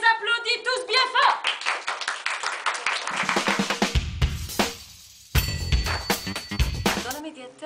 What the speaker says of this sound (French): Et on les applaudit tous bien fort.